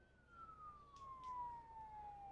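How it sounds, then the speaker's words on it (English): A faint, distant police siren at an Independence Day parade wails in a long slow downward tone, heard from far off over a quiet background. "All right, and the sirens are going, Rich."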